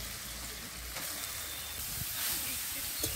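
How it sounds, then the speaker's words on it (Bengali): Chopped carrots frying in ghee for carrot halwa, giving a soft, steady sizzle and hiss that holds at an even level throughout, with faint low rumble beneath. "কুচি রাখা গাজরগুলো ঘিয়ের মধ্যে দিয়ে দিচ্ছি"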